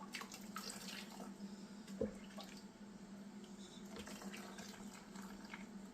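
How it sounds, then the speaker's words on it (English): Brine pours over eggs in a jar for pickling, a faint, steady trickle and splash of liquid with a few small knocks, heard alone at low level. "Put your brine in until it covers your eggs."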